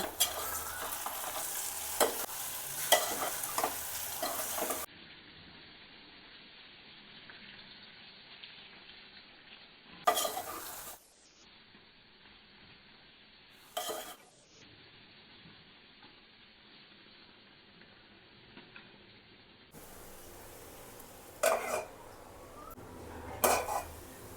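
A spoon stirs raw banana fry with chilli powder and coriander powder in a pan, giving soft scraping and faint sizzling close by in several short bursts separated by quiet gaps, with no voices.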